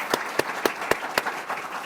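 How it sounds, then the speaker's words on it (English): A few sharp, evenly spaced claps ring out at a middle school citywide spelling bee, about five distinct hits over a soft crowd background with no talk. "So I'd love to give her a big round of applause."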